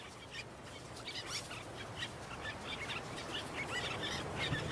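Young birds in the Italian wild flapping their wings to build flight muscles, a busy stretch of soft wingbeats mixed with repeated chirps and calls over a steady outdoor background.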